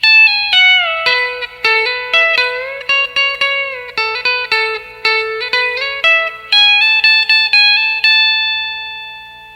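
An electric guitar fitted with a B-bender plays a solo line, a bright run of picked, bent and pulled-off notes that ends on a sustained chord, loud and alone.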